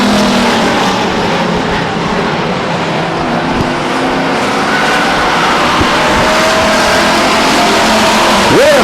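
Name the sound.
stock race cars racing at Stockton 99 Speedway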